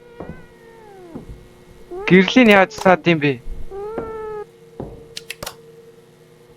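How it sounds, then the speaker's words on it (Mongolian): A black cat meows several times, close and fairly loud, in a run of drawn-out, wavering cries, while people talk nearby between the calls. "Хар муур байна."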